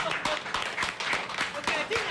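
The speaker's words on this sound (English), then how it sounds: "I think people of Punggol East and Li Lian deserve an applause" Applause breaks out for Li Lian at a Workers' Party press conference after the Punggol East by-election victory: dense, steady clapping from a crowd with sharper individual claps standing out throughout.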